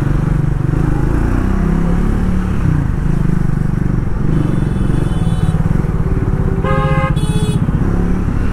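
A Triumph Speed 400 motorcycle runs steadily on the road, its engine droning loud throughout, with passing traffic and short car-horn toots near the end.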